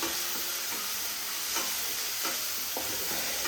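Tomatoes and green chillies frying in a pan, a steady broadband sizzle with occasional stirring scrapes, close and continuous with no voices.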